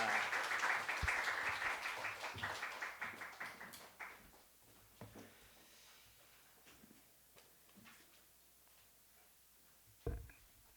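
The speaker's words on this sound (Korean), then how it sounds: "나올 때 우리 보내주신 하나님께 큰 박수로 환영하도록 하겠습니다" Church congregation at a Sunday joint worship service claps to welcome the pastor, a dense burst of applause that thins into scattered claps and fades within about four seconds, followed by quiet taps and a sharp knock.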